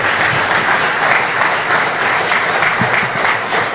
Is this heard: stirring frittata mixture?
no